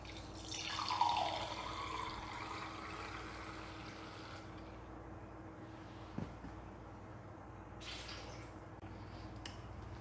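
Juice is poured into a wine fermenter to rinse out leftover yeast, a quiet hissing liquid pour for about four seconds, then near silence with a faint later splash.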